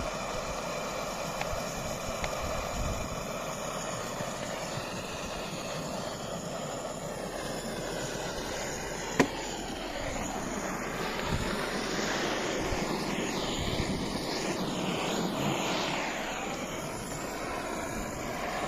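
A smoke cannon used to treat beehives runs continuously with a loud, steady engine-like roar and whine, its pitch drifting and wavering over nearly twenty seconds, with one sharp click near the middle.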